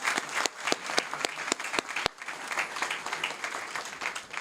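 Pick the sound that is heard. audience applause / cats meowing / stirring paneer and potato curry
audience applause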